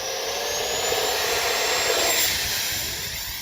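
An Arrows Red Hawk 50mm RC jet flying at half to three-quarter throttle on a windy day gives a steady, whining ducted-fan roar that swells slightly and then eases, with no voices.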